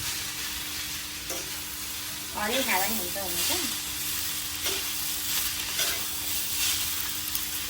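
Hemp chowmein stirred in a hot pan with soy sauce, a constant sizzle with scraping stirs and soft clatter, while a voice briefly talks over it partway through.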